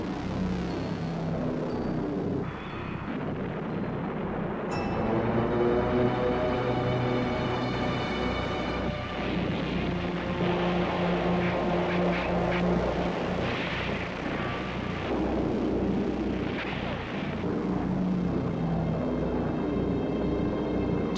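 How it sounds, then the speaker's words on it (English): WWII Allied aircraft, including Typhoons, rocketing and strafing trapped German divisions in France: a loud, continuous engine drone fills the whole stretch, with a rising tonal sweep near the start and no voices. "Allied aircraft ran riot over the area, rocketing and strafing the trapped German divisions."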